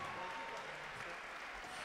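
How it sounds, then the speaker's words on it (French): Audience applause at a Muay Thai club celebration, steady and continuous across the whole moment, with a dense wash of clapping hands at moderate distance and no clear speech on top. "On l'applaudit, s'il vous plaît"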